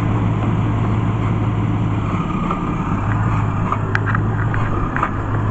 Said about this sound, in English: You can hear the truck surging.